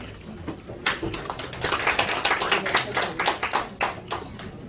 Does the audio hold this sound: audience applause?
yes